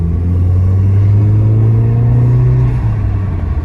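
A VW MK7 GTI fitted with an Integrated Engineering intake runs with a loud, close engine rumble, pitch sliding slightly as the throttle eases off, with no talking.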